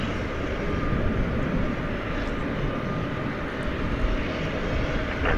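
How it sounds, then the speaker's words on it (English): An airliner takes off at DFW airport at night, its jet engines a steady, broad roar that holds loud and continuous throughout with no talking. "you hear the plane, the next in line plane getting cleared for takeoff before this one even leaves the runway"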